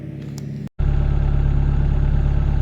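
A car engine idles at night in freezing cold in Norway, a low steady rumble that cuts out for a moment and then returns louder and fuller.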